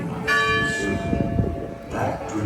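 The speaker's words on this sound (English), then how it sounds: "They're ringing the bells of Pinocchio" Bells ring out at Disney World's Magic Kingdom, with sustained tolling tones sounding outdoors over crowd noise and background music, fairly loud and close.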